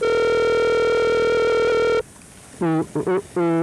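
An outgoing phone call rings with a steady electronic ring tone on the line, which cuts off abruptly partway through before a recorded voicemail greeting begins.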